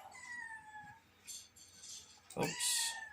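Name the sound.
pet cat meowing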